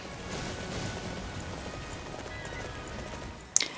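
Horse hooves clip-clop on the ground in Dynasty Warriors, a soft steady patter of steps over low rumbling game noise, ending in a sudden sharp bright hit near the end.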